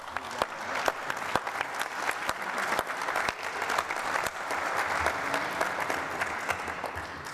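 Sustained audience applause fills a congress hall at an ICF ordinary congress, many hands clapping densely and steadily with sharp individual claps standing out, continuous throughout without speech.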